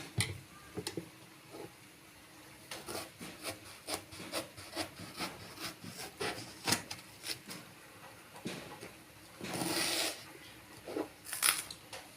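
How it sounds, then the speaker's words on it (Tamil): Peeled raw plantains are sliced with a knife, giving a run of soft repeated cutting taps and scrapes against a board, close and fairly quiet, with no talking. "ரெண்டு வாழைக்காயிலும் தோல் சீவியாச்சு இப்போ இதை கட் பண்ணி எடுத்துக்கலாம்"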